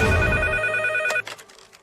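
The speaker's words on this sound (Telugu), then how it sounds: "వెంకట్ ఫోన్." A telephone rings loudly with a steady electronic bell tone, then cuts off, followed by a few faint clicks.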